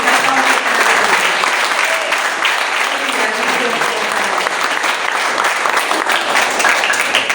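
A church congregation applauds, a loud, dense and continuous wash of clapping lasting throughout, with a voice audible faintly underneath.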